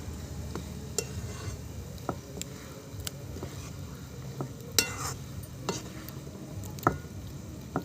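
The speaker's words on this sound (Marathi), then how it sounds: "आता थोडंसं परतून घेऊया." Eggplant bharit with salt and chopped spring onion is stirred in a pan over a wood-fired stove outdoors on a terrace: steady soft sizzling with repeated scraping clicks of the spoon against the pan, close by and without talk.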